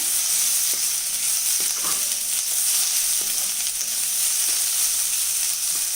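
Onions sizzle steadily in a hot pan for chicken perattu, a loud, continuous frying hiss close up, broken by occasional soft scrapes and knocks as a spoon stirs them.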